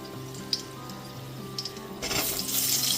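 Eggplant pieces drop into hot oil already tempered with slit green chilies over a low-to-medium gas flame, and a bright, rushing sizzle swells suddenly partway through, then continues steadily.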